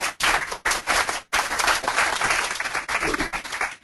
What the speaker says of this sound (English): I want to give a round of applause to Dan